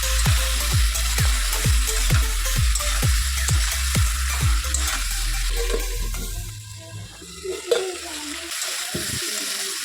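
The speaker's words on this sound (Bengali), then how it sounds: "দিয়া ঝিঙ্গা আলু একটু ভালো করে মিক্স করে আমি একটু কষালাম ঢাকা দিয়া" Ridge gourd and potatoes with spices sizzle in a pan while a spoon scrapes and stirs them in a steady rhythm of about a dozen strokes. The stirring then stops, and the frying continues more quietly with a few clinks.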